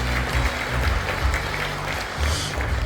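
Audience applause fills the Crystal Ballroom of the Lotte Hotel Jamsil at a year-end gathering, a steady wash of clapping under low hum and faint background voices.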